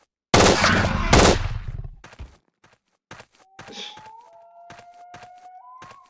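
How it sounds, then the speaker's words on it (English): Automatic pistol fire in the Trespasser video game, a loud burst of rapid shots up front, then scattered lighter impacts and clicks with a faint rising electronic tone. "Problem with these automatic pistols,"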